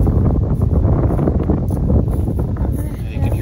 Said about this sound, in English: you can hear that wind really hollering.